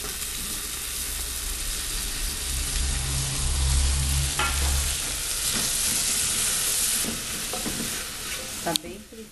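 Onion and bacon frying in a pan give a steady, close sizzle with occasional stirring scrapes and a few spatula knocks, and no voices are heard.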